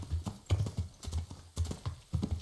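Horse hooves clip-clop in a steady trotting rhythm in the video game Kingdom Come Deliverance, close and clear, with no talking over the footfalls.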